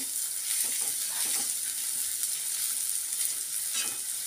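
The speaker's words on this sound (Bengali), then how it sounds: "এই যে ভাজছি দেখো, দেখো চালটা কেমন ভাজা ভাজা হয়ে গেছে।" Rice frying in a hot pan for a Bengali fish-head rice dish gives a steady, close sizzle with soft scraping stirs, and no voices.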